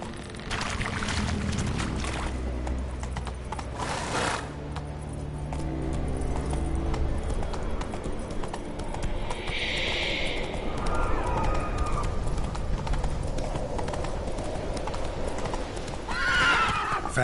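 Roach, the horse in The Witcher 3 video game, gallops with rapid rhythmic hoof clip-clops over a low ambient bed, letting out a clear neigh midway and another whinny near the end.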